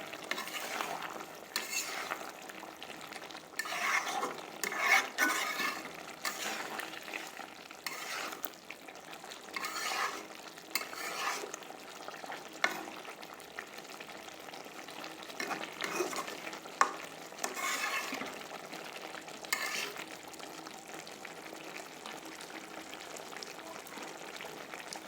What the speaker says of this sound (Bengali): কচুমুখী কষানো হইতেছে